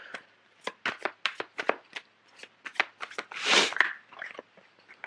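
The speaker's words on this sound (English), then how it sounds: "I'm going to pull out a few cards for the 7 of Swords" Tarot cards shuffled and drawn by hand, close and fairly loud: a string of crisp riffling flicks and snaps with a brief denser burst of shuffling in the middle, no talking.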